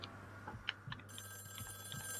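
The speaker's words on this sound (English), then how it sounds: "That phone is ringing again." A telephone rings inside the Call of Duty Warzone video game, faint repeated bell-like trills pulsing in a steady rhythm against a quiet game background, with no talk.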